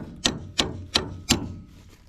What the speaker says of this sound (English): So I guess I'm about to beat this with a hammer to try to get it broken loose.